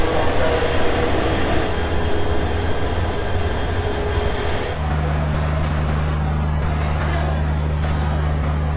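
Benapole Express passenger train running out of Dhaka, a loud steady rolling rumble heard on board that shifts midway into a lower, smoother drone with a sustained low hum.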